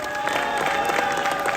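Audience applause at a crown diamond award speech event, dense steady clapping from a large seated crowd, sustained and fairly loud throughout with no voices over it.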